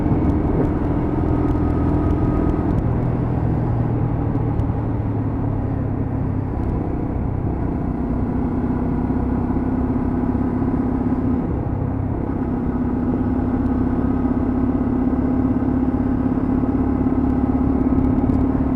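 Lexmoto LXR 125cc motorcycle engine while riding in sixth gear, a steady droning hum with wind rumble, continuous and close throughout with no talking.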